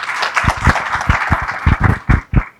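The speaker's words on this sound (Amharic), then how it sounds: "አጨብጭቡላቸው።" An audience applauds during a religious talk, a loud burst of hand claps with sharp individual slaps standing out, then fading at the end.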